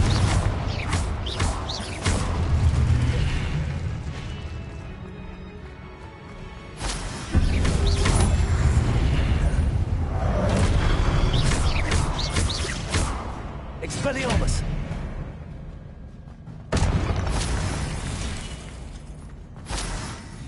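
Confringo blasting spells go off in Hogwarts Legacy, loud bursting explosions striking in several separate bursts with crackling, shattering debris in between; a voice casts the spells.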